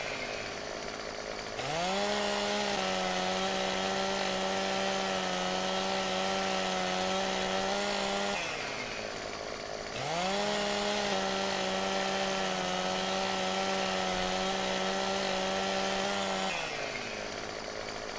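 Chainsaw cutting large logs in Farming Simulator 17, two long revving bursts that rise in pitch, hold a steady buzzing drone, then drop back to a lower idle, close and loud with no talking.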